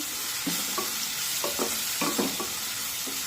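Green chillies sautéing on low heat for a potato curry, a steady bright sizzle beneath a few soft, scattered scrapes of a spatula moving them around the pan, close and quiet.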